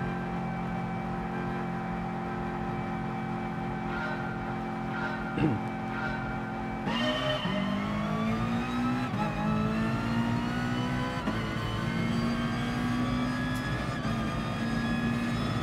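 Race car engines in GT Sport, including a Honda NSX, drone and whine steadily, with a sharp rise in revs partway through followed by layered engines climbing through the gears at moderate volume.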